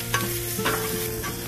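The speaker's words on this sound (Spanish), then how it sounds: "con la propia grasa del tocino estoy cocinando ya la cebollita" Onion frying in bacon grease on a Blackstone griddle, a close, steady sizzle broken by a few scraping stirs of a spatula across the flat top.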